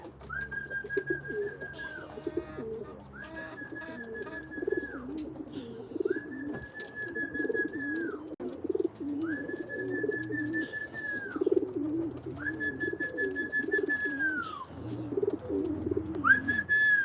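Doves coo outdoors in a quiet spot, mixed with a repeated rising human whistle of about five long even notes at steady intervals, with fairly close, moderate ambient noise throughout.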